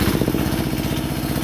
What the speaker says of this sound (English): let's go to the DJA Single Cylinder Diesel.